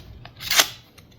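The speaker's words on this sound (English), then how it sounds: "I'm going to do sharpness test on some paper just to see how sharp it is" One quick, crisp slicing swish of a sharp knife through paper, close and sharp, peaking briefly before fading, with faint ticks around it.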